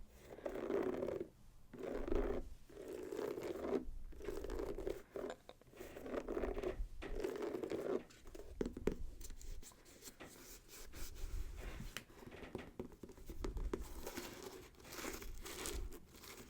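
Close, steady rustling and crinkling of sneaker shoelaces, scraping in short repeated strokes with brief pauses between them.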